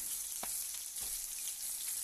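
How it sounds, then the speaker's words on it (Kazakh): Carp frying in a pan makes a constant close sizzle with scattered pops and soft spatters, steady throughout with no speech. "Міне осылай балығымыз қуырылып жатыр."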